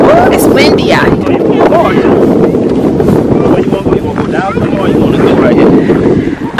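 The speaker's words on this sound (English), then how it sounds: "It's windy out here." Strong wind buffets the microphone outdoors on a snowy sledding hill, a loud constant rumble and roar with faint voices mixed in underneath.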